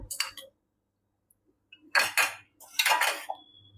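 Spoon clinks against a bowl as curd is added while making bajra dhebra, a few short bright taps near the start, then a pause and two clustered bursts of clattering metal on dish, close and fairly loud.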